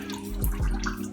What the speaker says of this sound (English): 225 milliliters of warm water